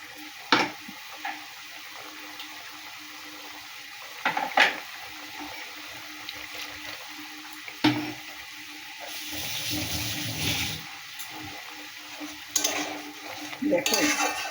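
Tel koi fish curry with a little ground sesame paste bubbling and simmering in a pan, a steady soft seething with a louder, wetter burst partway through and a few sharp clinks of utensils.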